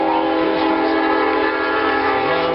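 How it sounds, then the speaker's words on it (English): A train horn blows in one long, loud, sustained blast with a steady harmonic tone, heard close and alone without talk. "Now this is the blowing horn again"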